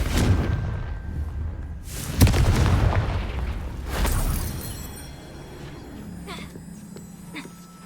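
A Confringo fire spell in Hogwarts Legacy sets off several loud, booming explosions in quick succession, each followed by a rumbling decay that fades into quieter game ambience.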